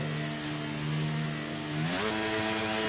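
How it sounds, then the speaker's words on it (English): A high-pitched racing car engine in a video game race at the Netherlands round whines steadily, then its pitch jumps upward as it revs, loud and continuous throughout. "listen to that engine squeal"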